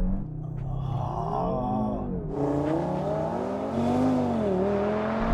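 Audi RS3 cars, 2019 and 2017 models, launching side by side in a drag race, their engines droning loudly and steadily with rising, wavering pitch, heard from inside one car throughout.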